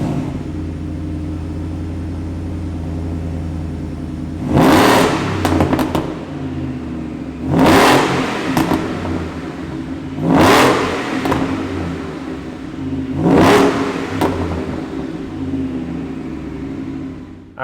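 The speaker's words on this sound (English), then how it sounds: "Let's fire up this Shelby F-150 and see what it sounds like." Close by, a 2020 Shelby F-150 truck idles with a deep steady rumble and is revved four times, each a sharp rising roar that falls back to idle, with no talking.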